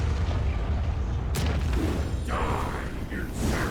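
A low, rumbling impact as Ragnaros strikes a minion in the card game Hearthstone, a deep boom with a sharp crack partway through, followed by fainter fizzing effects over a steady game background.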